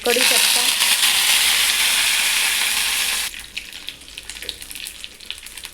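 Loud, steady sizzling and crackling of mustard seeds frying in hot oil for about three seconds, then dropping to a quieter scatter of pops and hiss.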